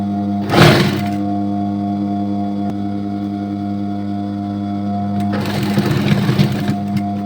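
A sewing machine stitches a skirt waist with a steady, close mechanical hum throughout, rising into louder bursts of rapid stitching at the start and again near the end.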